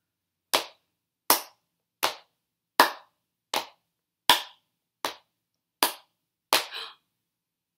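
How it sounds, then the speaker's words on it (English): Hand claps in a steady even rhythm, about ten sharp close claps spaced under a second apart, each alone with silence between and no voices. "Oh, we're gonna clap."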